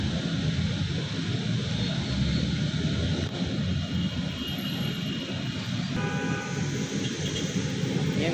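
The hydraulic jacking cylinder of an MCT205 tower crane works during a jack-up, producing a loud, steady broadband rumble and hiss with no break, and nobody speaks.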